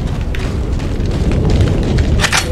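A deep, rumbling blast from an explosion in the video game Resident Evil 4 fills the scene as a loud, sustained low roar, with a sharper crackle near the end.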